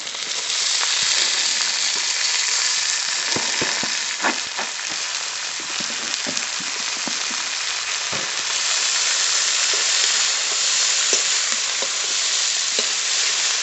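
Hilsa fish head, slit green chillies and chopped komli greens frying in a pan, a steady loud sizzle across the whole stretch with occasional pops and stirring scrapes, no voices.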